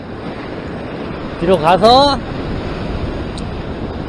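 Ocean swell surging against the shore at a Sydney, Australia fishing spot, a steady broadband wash of surf and wind noise throughout, with a brief spoken phrase near the middle.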